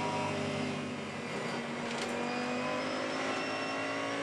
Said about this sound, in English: That little whine there, that's the compressor actually engaging the gears when he down changes.